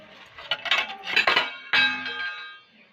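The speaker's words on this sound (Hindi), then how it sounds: "फिलहाल बर्तन उठा लेती हूँ, मुझे करने हैं बर्तन साफ़।" Kitchen utensils clatter and clink as they are gathered up for washing in a home kitchen, with several close, bright metallic knocks and rattles in quick bursts and no talking.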